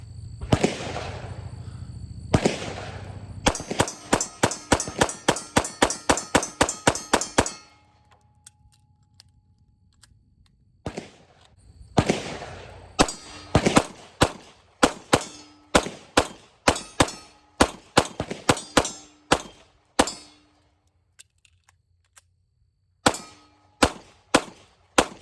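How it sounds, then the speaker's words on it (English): A CZ P07 pistol fires rapid strings of shots at steel targets outdoors. Each sharp crack is followed by a ringing metallic clang. Two bursts are separated by a short quiet pause, then steadier shots follow. "I absolutely love shooting this handgun."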